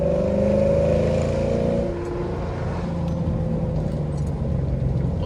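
A supercharged 855-horsepower Lexus RC F engine accelerates hard on a mountain road, a loud, steady, close roar with rising tone early that settles into a sustained rumble.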